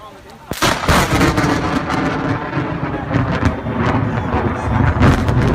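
Heavy rolling thunder from a rare snow lightning storm in Southern California cracks in abruptly and keeps rumbling loudly, with rain and a faint voice underneath.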